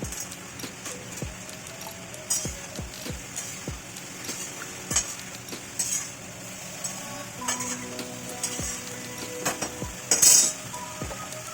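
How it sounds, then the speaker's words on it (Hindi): Carom seeds and fenugreek seeds frying in oil in a pan on a home stove, a soft, low sizzle under repeated sharp metallic taps and scrapes of a utensil against the cookware. "मेरा इस समय अजवाइन और मेथी भून रहा है तेल में"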